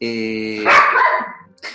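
A pet dog barks close by with a sharp, loud, whiny bark lasting about a second, and a person speaks briefly alongside it.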